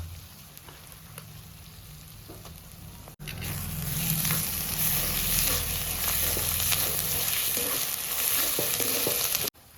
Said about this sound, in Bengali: পেঁয়াজ আর রসুনটা আমি একসঙ্গে লাল করে নিয়েছি এরপরে দিয়ে দেবো আদা বাটা